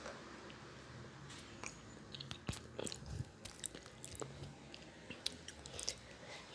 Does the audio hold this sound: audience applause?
no